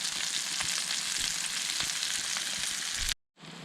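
Vegetables hiss and crackle in a hot pan, a loud, close, continuous sizzle with small pops throughout, cutting out briefly just before the end.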